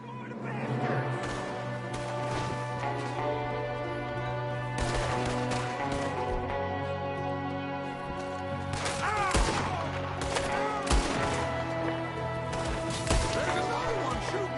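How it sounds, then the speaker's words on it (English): Gunfire in Red Dead Redemption II during a shootout: scattered gunshots and sharp cracks over a background of game music, some close and loud, with voices talking at times. "There's another one shooting from the window."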